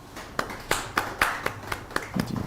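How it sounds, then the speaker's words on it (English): Sparse, rhythmic clapping from a small audience at a youth discussion event, about a dozen distinct claps spaced evenly, ending in a quicker flurry. "Can you please clap for him?"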